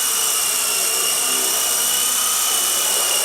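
A small Blade 120 S2 four-channel RC helicopter hovers indoors in a tight room, its rotor giving a steady, fairly loud high-pitched whine and buzz that holds without break.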